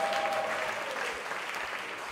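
A church congregation claps together in a short burst of dense applause during a worship service, steady and fairly full, with a faint tonal sound near the start and no talk.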